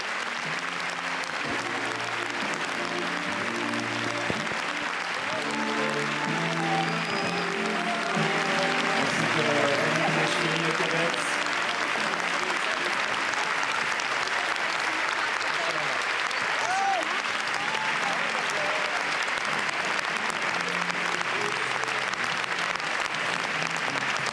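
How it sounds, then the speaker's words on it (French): An audience at the Cannes Film Festival red carpet applauds the film team heading into a screening, a long, steady wash of clapping with faint voices mixed in throughout. "So everybody there applauding"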